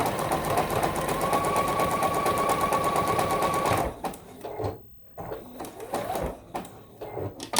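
A sewing machine runs steadily and loudly as it stitches a quilt block, a dense mechanical whir that lasts about four seconds and then stops, followed by quieter handling and shuffling noises.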